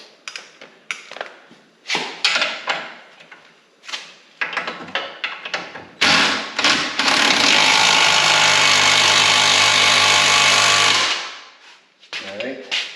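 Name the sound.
power tool tightening bolts on ZRP radius arm bars, Can-Am Maverick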